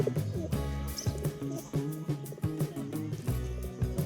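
Ghorra hunting pigeon cooing repeatedly in a steady rhythmic series of low calls, close and fairly loud, with no talking.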